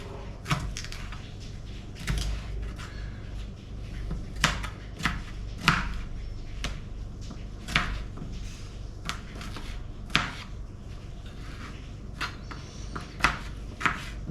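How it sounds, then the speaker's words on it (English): A knife chops a red pepper into bite-sized pieces on a chopping board, with irregular crisp thuds, some in quick runs and some spaced apart, close and clear over a quiet kitchen background. "chop down the rest of the pepper into"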